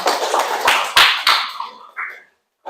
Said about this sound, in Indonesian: tepuk tangan dulu dong untuk kelompok Eca